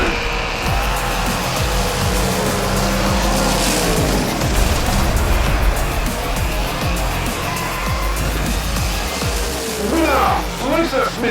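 Race cars in a video game race roar past in a continuous, loud engine drone with bursts of tire squeal as they power across the finish line, and a voice talks over the racing.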